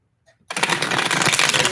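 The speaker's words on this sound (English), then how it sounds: "Let me shuffle the cards really quick." A deck of tarot cards shuffled by hand, a dense close riffling flutter that starts abruptly after a faint tap and runs continuously.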